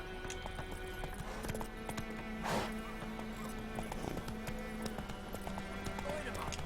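Rhythmic hoofbeats of a horse running in The Witcher 3: Wild Hunt, steady clip-clop with a brief whoosh, over a low background hum.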